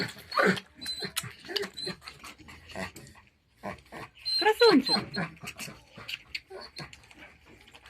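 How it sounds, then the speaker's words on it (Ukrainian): A dog whines and whimpers in short, high-pitched bursts while watching small Vietnamese piglets in a yard, with a person speaking nearby throughout. "Як собака дивиться на маленьких, він отак скавчить."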